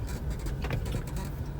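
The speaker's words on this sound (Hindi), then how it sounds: "यहाँ पर गाड़ी को पार्क करते हैं।" A car idles low and steady while being parked outside a bank branch, with a soft mechanical click or two over the constant engine rumble.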